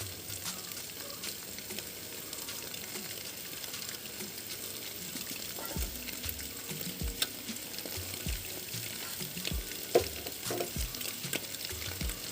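Egg fried rice seasoned with pepper powder sizzles faintly in a pan, street style, with scattered scraping and stirring clicks of the utensil against the metal.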